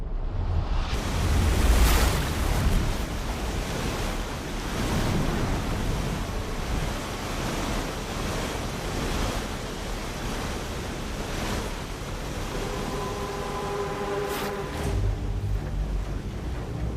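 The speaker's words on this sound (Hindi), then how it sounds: "पानी 17 नंबर पिलर तक पहुंच गया है। पानी का बहाव तेज है" Fast-flowing flood water surges through a mine, a steady, dense roar of rushing water that stays loud and continuous throughout, with no voices over it.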